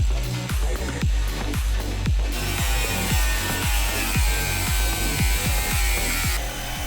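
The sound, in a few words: jigsaw with metal blade cutting van wall curves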